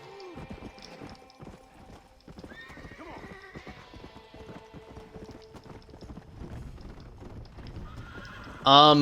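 Hooves clip-clop in a steady rhythm as a horse is ridden in Red Dead Redemption: Undead Nightmare, with whinnies and neighs on top and someone talking over the game sound.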